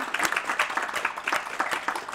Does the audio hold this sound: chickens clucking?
no